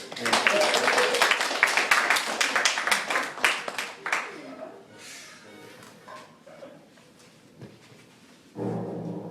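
An audience at a sideshow performance gives a loud round of clapping that thins out into scattered claps over a few seconds, with voices and chatter underneath.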